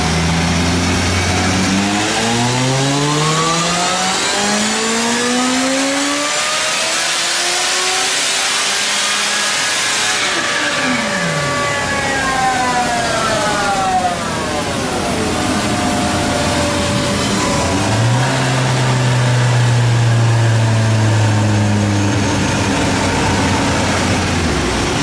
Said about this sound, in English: But first, let's get these dyno runs out of the way.